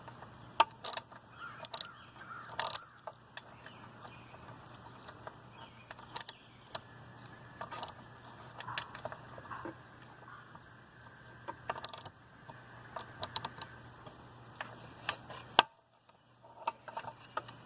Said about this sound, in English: Now I've actually got all these head bolts tightened in as much as I can